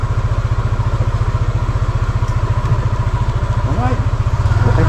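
A motorcycle engine idles with a steady, rapid low thumping pulse, close and loud, then revs up briefly at the end, with faint voices in the background.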